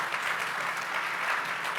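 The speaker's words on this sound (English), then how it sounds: "Round of applause for them." An audience at a commercial leaders panel session applauds the panelists with continuous, even clapping that fills the short stretch without pause, a fairly soft and distant wash.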